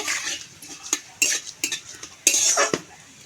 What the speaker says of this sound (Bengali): আর দিয়ে দিচ্ছি এক চা চামচ সাদা তিল একটুখানি নেড়ে চেড়ে ভেজে নেব